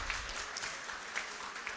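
Audience applause at a political talk, a steady dense wash of many hands clapping at moderate distance, fairly quiet and even throughout with no voices over it.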